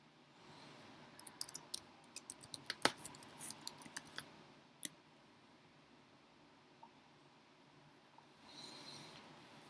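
Faint, close computer mouse clicks come in a quick irregular cluster, followed by a couple of isolated single clicks over a quiet background.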